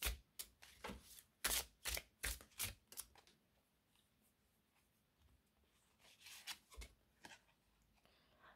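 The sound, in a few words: oracle cards being shuffled and drawn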